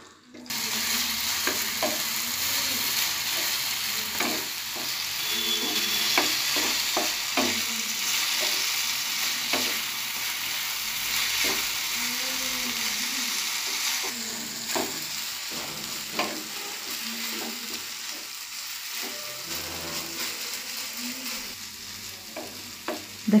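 Cauliflower and turnip fry in a pan for a Kobi bharta, with a steady, close sizzle broken by repeated scraping and clacking of a spoon stirring through the vegetables, and no talk.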